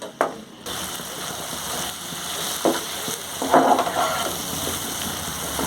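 Fried potatoes sautéing in a spicy rui fish and mango curry give a continuous low sizzle close by, with a few spoon scrapes and a brief clink at the start.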